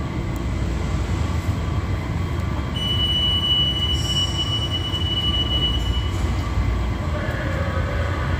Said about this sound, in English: Oh, that's my train. I'm not gonna make it.